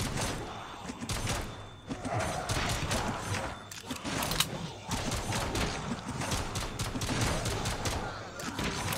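Rapid bursts of gunfire crackle almost continuously in Call of Duty Zombies, some shots sharper and closer, with a busy game soundscape and no clear talking.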